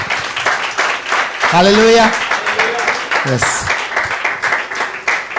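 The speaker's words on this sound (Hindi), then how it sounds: "मैं चाहता हूं अपने परमेश्वर के लिए जोरदार ताली बजाइए" A church congregation applauds loudly, a dense patter of clapping running throughout beneath a man's prominent, excited voice calling out over it.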